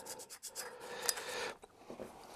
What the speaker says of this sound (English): you just run the screwdriver around that